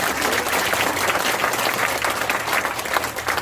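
A room full of seminar attendees claps in a dense, sustained round of applause, loud and close throughout.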